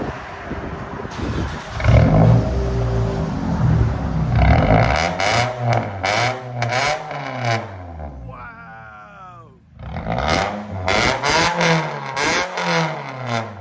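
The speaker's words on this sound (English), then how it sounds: "That's the first Toyota Solara that you heard this loud." A straight-piped 2008 Toyota Solara engine revs loudly and close, its pitch climbing and falling through several rev swells, with a brief whining dip before it roars again.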